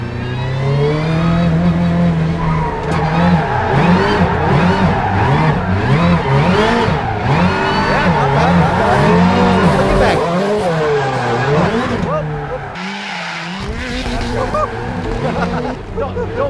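A rally driver's 862bhp Subaru Huckster all-wheel-drive rally car revving hard with rising and falling engine pitch while sliding and skidding over grass, loud and close throughout, with people talking over it.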